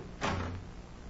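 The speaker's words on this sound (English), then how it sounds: "Out this way and shut the doors behind us." One muffled door shuts in a 1943 radio drama of Dr. Manette's Manuscript, a soft, dull thud with a short rumbling tail against faint background hiss.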